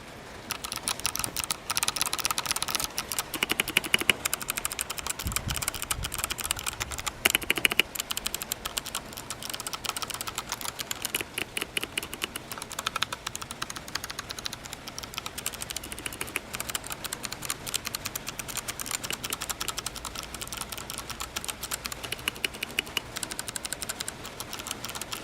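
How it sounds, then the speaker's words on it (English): Fingers type on a mechanical keyboard right beside the microphone, producing a dense, continuous patter of sharp clicky keystrokes that runs steadily for about 25 seconds with no speech. "I have two mechanical keyboards."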